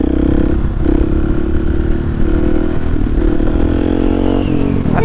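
A Husqvarna 701 motorcycle engine holds a steady, loud drone throughout, pitch wavering slightly as the throttle is held on a choppy ride, close and continuous with no talk over it.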